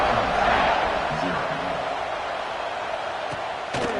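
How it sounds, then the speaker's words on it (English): Stadium crowd noise from a Madden football video game, a steady broad roar with a commentator talking over it throughout. "this crowd now ready to get behind them"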